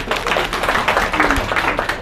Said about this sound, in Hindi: तालियां बजाओ इस बात पे